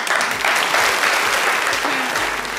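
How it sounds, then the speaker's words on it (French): Loud applause from a live show audience cheering a young woman called onstage, a thick wash of clapping mixed with crowd noise and a hint of voices. "Mademoiselle, on peut l'applaudir très fort."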